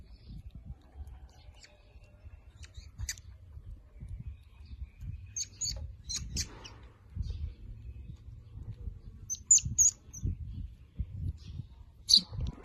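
Just after a feeding of chick feed and egg yolk, a young rescued hwamei thrush gives sparse, brief chirps spread across the stretch, close but faint, over low rustling and handling noise.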